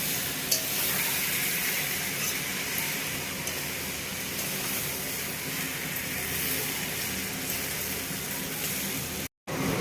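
Puffed rice and flattened rice being tossed with spices in a pan, a steady soft scraping and rustling stir over a low sizzling background, with no talking.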